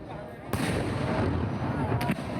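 Fireworks recorded on a smartphone, a continuous dense crackle and rumble of bursts with a couple of sharper pops standing out, loud and steady throughout.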